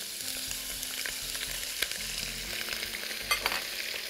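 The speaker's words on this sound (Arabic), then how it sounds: "ودول بحمر معاها بصل" Onions fry in hot oil alongside chicken pieces in a pan, a continuous bright crackling sizzle with occasional stirring scrapes, close and alone without any talk.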